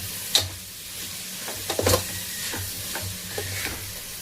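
Coriander and mint being stirred into paneer pulav in a pan, soft scraping strokes over a faint sizzle, with a few sharper utensil clicks, close and fairly quiet.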